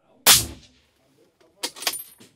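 Rifle shots at a shooting range fitted with sound dampening, one sharp loud report followed after a pause by a quicker cluster of shots, each fading quickly.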